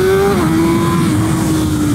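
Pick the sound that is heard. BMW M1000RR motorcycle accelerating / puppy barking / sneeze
BMW M1000RR motorcycle accelerating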